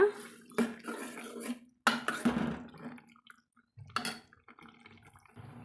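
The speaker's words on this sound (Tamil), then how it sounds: "அந்த கொதிச்சிட்ருக்கிற குழம்பு எடுத்து இதில் கொட்டிக்கலாங்க நம்ம கொட்டிட்டு கலந்துட்டுக்கலாங்க" Boiling gravy poured into a pot of white pumpkin kootu and stirred: a wet splashing pour, then metal clinks of a spoon against the pot and sloshing liquid, close by, in short uneven bursts with quiet gaps.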